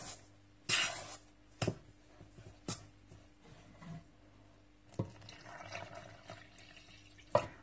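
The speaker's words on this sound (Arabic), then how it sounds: "وغادي نزيد عليهم الماء يكون دافي" Warm water poured into a flour mixture for mhajeb dough, close splashing and trickling in short bursts with a few louder sloshes, quiet overall and without speech.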